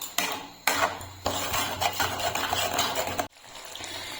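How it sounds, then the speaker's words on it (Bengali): Tomato paste, salt and chili powder for homemade pizza sauce being mixed in a bowl, a close continuous spoon scraping and clinking against the dish with a few sharp knocks and brief pauses, no talking. "এখন ভালো করে মিশিয়ে নেব।"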